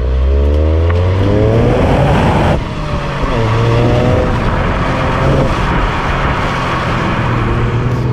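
A Toyota RSi engine revs hard toward its red line, loud and close, with rising harmonic sweeps, a brief dip near two and a half seconds, then repeated climbs; no talking.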